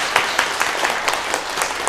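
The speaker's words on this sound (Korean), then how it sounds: "인사하실 때 박수로 받으시고 꽃다발도 좀 전달을 해주시기 바랍니다." Sustained applause from a church congregation during a Sunday worship service, dense steady clapping filling the room for the whole stretch with no talking over it.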